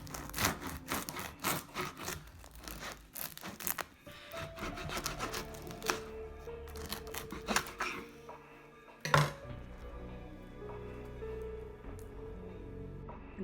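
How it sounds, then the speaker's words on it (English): Crust of a freshly baked golden no-knead loaf from a Dutch oven, crackling and rustling up close in quick dry crunches, fading to quieter ticks before one sharp crack. "listen to this crust"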